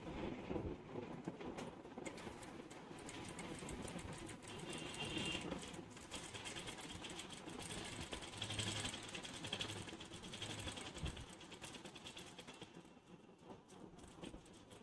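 A sewing machine stitching a hand-made frill design with loose stitches, running in a continuous rattling whir at a soft, even level throughout, with no speech.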